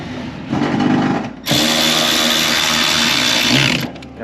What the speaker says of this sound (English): I hear stuff I'm not supposed to be hearing from the Express tool